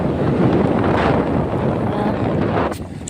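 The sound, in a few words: heavy rain while riding a motorbike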